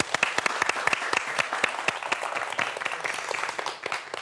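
Steady audience applause fills a lecture hall as a natural history museum director comes up for a science talk on dinosaurs, dense, even clapping with sharp individual claps standing out close by throughout.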